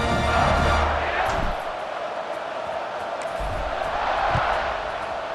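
A stadium crowd roars in the EA Sports College Football 26 video game during a kickoff, keeping up a steady broad din with a louder swell at the start.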